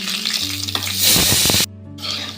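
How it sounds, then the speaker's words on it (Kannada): Raisins fry in hot ghee or oil for a Dussehra gudanna sweet, giving a loud, close sizzle with a brief stirring scrape midway. It cuts out abruptly near the end, then a softer sizzle returns. "ಈಗ ನಾನು ದ್ರಾಕ್ಷಿ ಹುಡ್ಕೊತೀನಿ ನೋಡಿ"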